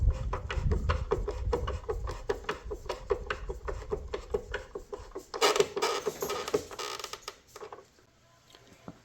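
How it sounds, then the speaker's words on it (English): Screw on an electrical box tightened against sheetrock, a close, quiet run of rapid rhythmic clicking and creaking ratchet-like turns, ending in a brief louder scraping burst before going still. "As I tighten it, it pushes against the sheetrock until it gets snug."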